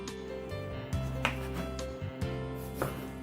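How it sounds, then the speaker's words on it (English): Tomatoes being chopped into large pieces with a knife on a board, a handful of quiet, close, irregular cutting thuds over a low background hum, with no one talking. "Chop up the tomatoes, large pieces, into the bowl"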